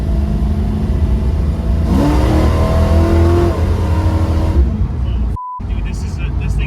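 A project car nicknamed V69 revs its engine on a first test drive down a street, a steady loud mid-pitched drone that climbs in pitch midway, with people talking over it near the end.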